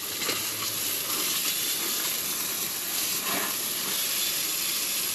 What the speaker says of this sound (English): You could just see that steam coming right off that compressor